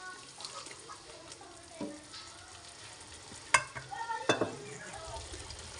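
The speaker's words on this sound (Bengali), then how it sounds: "এবার এর মধ্যে দিয়ে দিচ্ছি টমেটো কুচি। এবার আরও কিছুক্ষণ আমি কষিয়ে নিচ্ছি।" Shrimp curry with chopped tomato fries in a pan, a soft sizzle under occasional scraping strokes of a spoon, with a couple of sharper clanks near the end; no one speaks.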